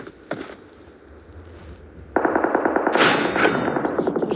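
Video game firefight with bursts of automatic machine gun fire: a lone shot early on, then sustained rapid fire with echoing reports, loud and close, with no talking.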